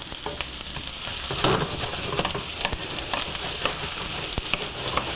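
Onions sizzle and fry loudly in a very hot pan, a steady bright hiss broken by occasional clicks and scrapes of stirring, with no talking.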